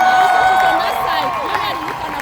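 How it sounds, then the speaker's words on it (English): A crowd at a public event claps and cheers loudly throughout, a dense, steady wash of applause with voices mixed in, close and sustained without a break. "How about another round of applause?"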